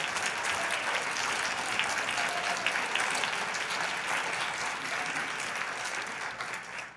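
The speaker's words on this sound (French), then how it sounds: "On l'applaudit." Dense applause from a theatre audience at a stage show, an even continuous roar of many hands held for several seconds at a moderate distance before tapering slightly at the end.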